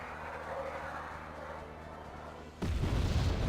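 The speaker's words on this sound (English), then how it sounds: "Completely nuking an airborne squad, yeah, in a rather beautiful explosion." Artillery in the real-time strategy game Wargame Red Dragon wipes out an airborne squad: a low, steady battlefield rumble suddenly breaks into a loud, deep explosion burst near the end.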